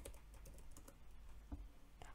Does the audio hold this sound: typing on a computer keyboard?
yes